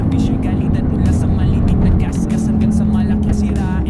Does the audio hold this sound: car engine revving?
yes